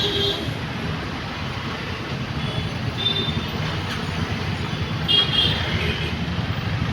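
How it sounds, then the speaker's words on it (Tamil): Busy road traffic at a crowded Chennai intersection with vehicles arriving from four directions: a steady, loud wash of engines and tyre noise, with a few horn toots rising briefly out of the continuous roar. "எவ்வளோ டிராஃபிக் ஆகுதுன்னு பாருங்கள்"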